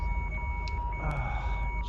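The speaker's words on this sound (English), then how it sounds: "can you turn that alarm off?" An alarm sounds with steady, sustained electronic tones over a loud low rumbling background, continuous through the moment without pauses or speech.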